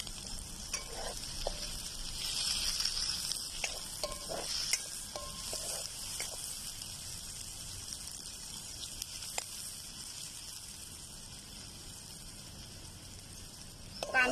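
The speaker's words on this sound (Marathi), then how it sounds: "कांदा तर लाल होईस्तर परतून घ्यायचाय।" Finely chopped onion fries in a pan for a pigeon-pea bhaji, giving a steady soft sizzle with occasional stirring scrapes throughout, fairly quiet and with no one talking.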